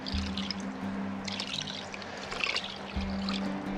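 About 20 liters of water mixed with bacteria inoculum for compost pours steadily from a container, a continuous trickling splash with a low hum underneath and no talking.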